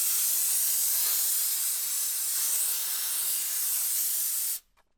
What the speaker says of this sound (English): for dust, the steamer will get all of it